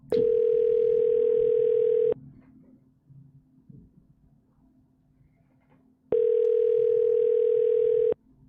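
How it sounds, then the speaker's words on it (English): A steady telephone tone sounds during a voicemail call transfer. It plays as two loud, even bursts of about two seconds each, separated by roughly four seconds of quiet low background hum. "Wait while I transfer your call."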